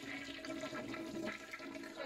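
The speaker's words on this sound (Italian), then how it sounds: "Si riempie d'acqua tutta la tazza e porta giù in un vortice d'acqua tutto." An American hotel toilet at Bryce Canyon flushes in a single short, rushing swirl of water filling and draining the bowl, close and fairly quiet, with no talk.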